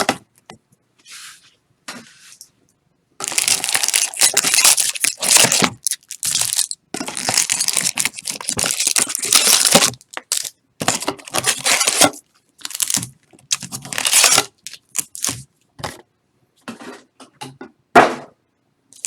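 Plastic shrink-wrap is torn and crumpled off a Magic the Gathering Throne of Eldraine booster box, loud crackling bursts in long stretches broken by short pauses, close up and with no talking.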